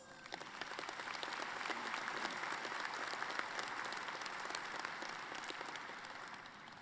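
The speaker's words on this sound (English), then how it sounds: "Let's give them all a round of applause." A roomful of people applauding steadily at a college convocation ceremony, dense clapping that holds at an even level throughout, heard from within the crowd.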